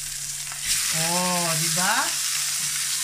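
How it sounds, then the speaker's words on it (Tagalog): Champignon mushrooms sautéing in a hot pan, a continuous loud sizzle and fry with a voice speaking briefly over it. "tsaka natin igigisa yung mushroom champignon"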